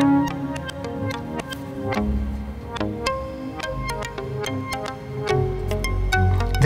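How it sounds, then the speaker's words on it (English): A QU-Bit Data Bender module's bend effect plays a steady musical loop with continuous pitch shifts, scattered sharp vinyl-style clicks and pops ticking throughout, and low rumbling swells near the end. "with this control you can experience the following effects: very speed pitch changes, reversed audio playback, and vinyl clicks and pops,"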